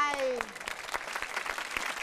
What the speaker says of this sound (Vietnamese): Wow, một tràng pháo tay.